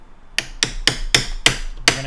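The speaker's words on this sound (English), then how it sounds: "We're gonna hammer. Sorry for the noise." Six sharp metallic hammer blows on Inmotion V11 electric unicycle parts during a tire swap land at a steady, even pace, close and loud, with short ringing after each strike.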